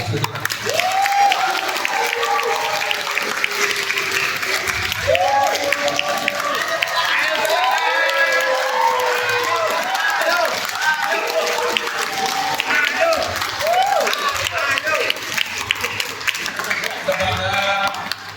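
An audience at a regional party meeting applauds and cheers loudly and continuously, with shouts and voices rising over the dense clapping throughout.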